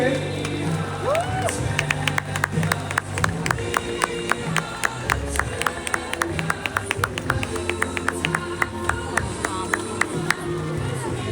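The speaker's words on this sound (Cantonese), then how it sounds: "值得大家再用多啲掌聲 俾聖約瑟書院" Spectators at a Hong Kong inter-school football final between Diocesan Boys' School and St. Joseph's College clap in a steady patter of sharp claps, with crowd murmur and voices running underneath.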